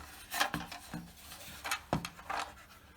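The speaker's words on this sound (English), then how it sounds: "just take your knife, use a ruler if you can, and just cut off the excess all the way along" A knife trims excess covering from a vintage Fokker Dr1 model aircraft: a series of short, close scraping strokes, several in quick succession with brief pauses.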